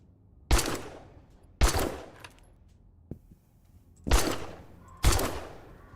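Gunfire aimed at vultures in the video game 7 Days to Die: four loud, sharp shots spaced irregularly, each with a short decaying tail, with a faint click between them.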